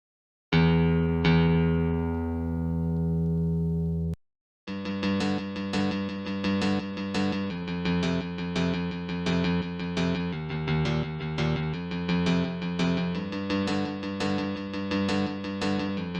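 A guitar in a stereo-imaging mix tutorial: a strummed chord rings out and decays, a short gap follows, then steady rhythmic picked chords play on, close and loud with no voices.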